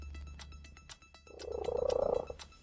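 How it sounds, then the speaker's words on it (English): A cat purrs during a loudness measurement for a purring world-record attempt. The steady rhythmic purr swells in at mid-clip, fairly loud and close, after a quiet start with only low background hum. "and now Merlin's purr"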